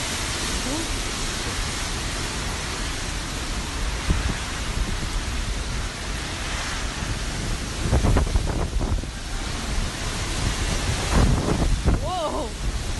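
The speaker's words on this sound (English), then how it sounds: "Gusting winds, pouring rain." Roaring wind and crashing surf of a storm with pouring rain fill the air with dense, loud noise, while a few voices shout faintly beneath the storm.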